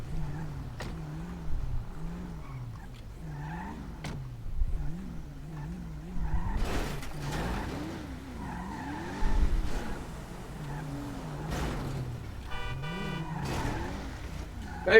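In a police roleplay video game, a Charger pushes a stalled car out of the street with its push bar, giving a wavering engine drone with repeated tire squeals and revving surges, plus a brief horn toot near the end.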